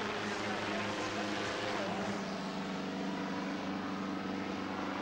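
A steady, loud rotor-and-engine drone of a helicopter fills the whole stretch without a break.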